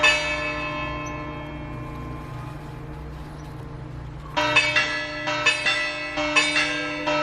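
Church bells ring from a nearby church on a Sunday, beginning after a steady background hum and striking in a loud, repeated sequence of overlapping chimes toward the end.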